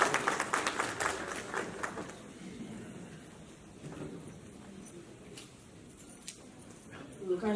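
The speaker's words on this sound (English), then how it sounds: "A round of applause for everyone who is." An audience at a UK youth political conference in Manchester applauds, with clapping strongest in the opening two seconds and then thinning into scattered claps and room murmur.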